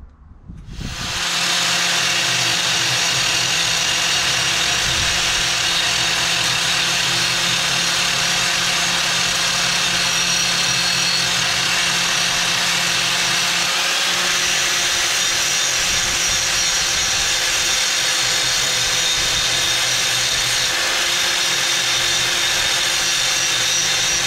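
A hedge cutter flail blade is sharpened with a power tool that starts up and then runs as a continuous loud grinding whine, steady and close for over twenty seconds.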